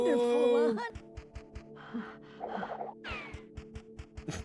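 A short high voiced squeal gives way to quick, rhythmic panting breaths from a frightened piglet in a video game, evenly spaced and close.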